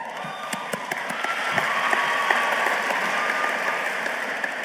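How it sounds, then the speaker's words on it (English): Steady applause with some cheering fills an indoor university celebration event as a senior soccer player is introduced, a dense, continuous wash of clapping from a large crowd with no talking heard. "Who brought her own cheering section tonight, apparently."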